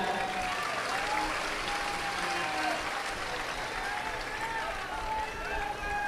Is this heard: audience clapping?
yes